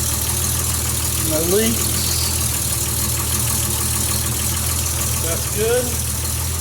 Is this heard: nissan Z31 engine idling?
yes